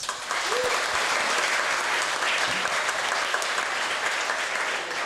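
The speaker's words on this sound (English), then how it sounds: "Let us all give them a big round of applause." Crowd applause at the close of a Catholic Mass, a round of clapping for sponsors and advertisers, dense and steady from start to finish at close range with some voices mixed in.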